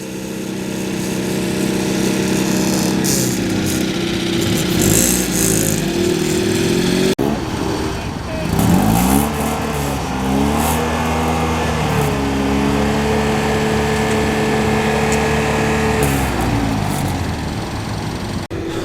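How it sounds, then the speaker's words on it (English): Citroen 2CV race car engine held at steady revs for a trackside noise test at Oulton Park, a loud, buzzing twin-cylinder drone that sustains, dips and climbs again through the revs with a brief blip midway, close to the microphone. "Drivers are asked to hold the revs at a certain amount, then they measure the decibels of it to make sure it's not too loud."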